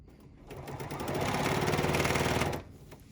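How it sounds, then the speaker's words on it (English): A sewing machine stitching a quilt block piece along a marked line, a short burst of fast, even mechanical chatter that rises, holds steady for about two seconds, then stops, close and clear. "I'm going to start by just sewing right on top of the line"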